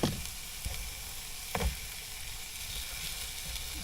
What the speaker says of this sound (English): Stir fry me rice.